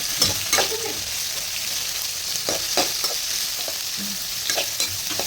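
Onion and tomato frying in a pan with curry leaves and green chillies, a steady sizzle broken by repeated scraping strokes of a spoon stirring close by.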